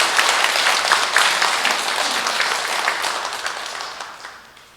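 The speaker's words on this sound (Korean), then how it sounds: "한꺼번에 축하의 박수 힘차게 부탁드리겠습니다" A congregation at a monthly church meeting claps in a dense, loud burst of applause that holds steady, then gradually fades away toward the end.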